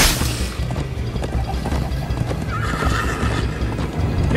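A horse in the video game Minecraft: Story Mode whinnies over a steady, rapid clatter of galloping hooves, loud and close, with thuds and crashes mixed in.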